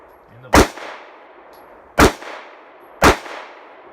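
Three separate shots from a Smith and Wesson Shield 9mm pistol at a shooting range, each a sharp loud crack with a short ringing tail, spaced irregularly about a second or more apart, with no talking.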